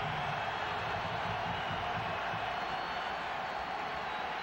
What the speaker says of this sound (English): Now the crowd back into the football game